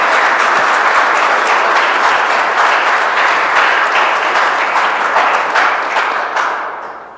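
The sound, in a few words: congregation applause at Christmas Eve mass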